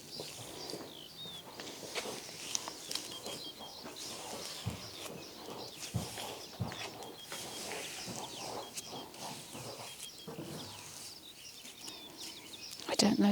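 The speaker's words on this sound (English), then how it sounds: "I don't know if you can hear all the birds." Small birds chirp and tweet through a horse barn, their calls scattered and fairly faint against a busy background of rustling, footsteps and stable movement.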